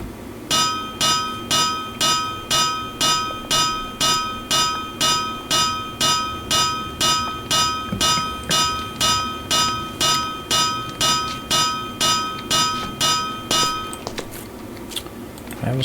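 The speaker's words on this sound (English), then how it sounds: "Back to hammering my life away." Metal clangs ring out in a steady, evenly spaced rhythm, roughly two per second, as a hammer repeatedly strikes in the survival game Biohazard Project Genesis. The hits are loud and bright, then stop abruptly near the end.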